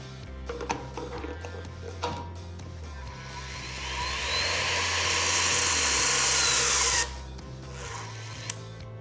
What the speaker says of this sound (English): We'll be performing snug tightening using this LST fitted with a reaction washer driver.